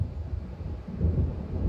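Low, rolling rumble of thunder from an approaching storm near a lakeside island in Alan Wake Remastered, a dull continuous roar that swells midway, distant and heavy, with no voices.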